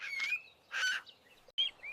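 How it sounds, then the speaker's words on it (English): A cuckoo calls in a forested bird park, several short, bright chirping bursts separated by brief pauses, fairly faint and with nothing else heard. "Cuckoos are known for their distinct calls in the forest."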